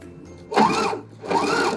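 A sewing machine back stitches at the start of a seam, running in two short whirring bursts with a brief pause between them, close and clear with no talk.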